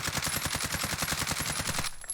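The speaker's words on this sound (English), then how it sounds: "I'm gonna ADS and shoot." Automatic gunfire in Warzone while aiming down sights, a loud steady stream of rapid evenly spaced shots that cuts off just before the end, with no talk over it.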